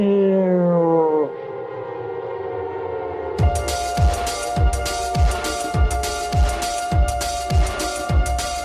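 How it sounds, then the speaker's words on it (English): A descending siren-like wail slides down in pitch, then a pulsing musical passage with regular low thumps and bright sustained tones follows, from a song. "clearly tell like, oh yeah, this is like a siren"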